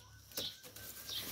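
Two large male Lahori pigeons coo softly and faintly in a home loft, a low murmuring call with a couple of brief brighter notes.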